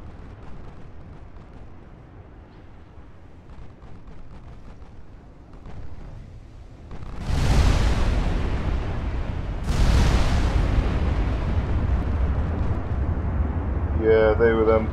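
Torpedo hits in the naval game Ultimate Admiral Dreadnoughts: two heavy booming blasts land a couple of seconds apart, each followed by a long loud rumble, after a quieter stretch of battle ambience.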